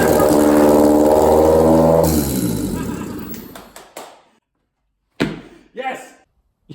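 A turbocharged Honda K20 engine fitted in a VW Bug starts and revs loudly close by, then the revs drop and it cuts out, followed by a few sharp slams and knocks while people speak excitedly.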